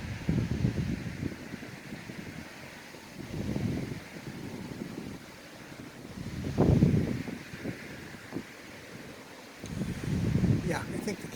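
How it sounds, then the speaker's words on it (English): Strong coastal wind hits the microphone in distinct rumbling gusts that swell and fade every few seconds, fairly faint between bursts. "The wind is a bit much out there today."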